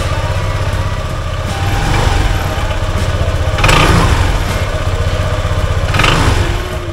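A Honda PCX 160 scooter engine runs after CVT cleaning, a loud, close, steady idle with slight revving swells and a few faint clicks over the drone.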